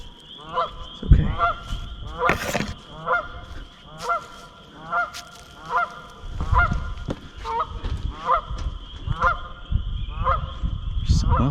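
A goose honks repeatedly in a steady series of loud, nasal calls on a wooded hiking trail, with rustling and footsteps underneath.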